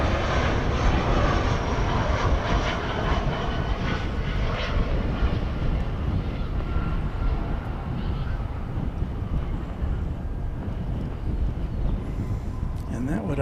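Avianca airliner in Star Alliance livery at Dallas Fort Worth, a loud continuous engine roar that stays steady throughout and dips slightly near the end, with no talk.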